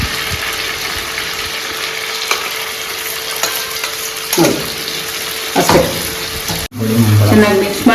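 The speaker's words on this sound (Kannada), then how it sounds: "ಎಣ್ಣೆಯಲ್ಲಿ ತುಂಬ ಆಯಿಲ್ ಯೂಸ್ ಮಾಡಬಾರ್ದು, ಎಷ್ಟಾಗುತ್ತೋ ಅಷ್ಟು ಕಮ್ಮಿನಲ್ಲೇ ಫ್ರೈ ಮಾಡೋಣ" Brinjal pieces fry and sizzle in a small amount of oil in a pan, a steady hiss broken by a few louder stirring scrapes, with a brief voice at the end.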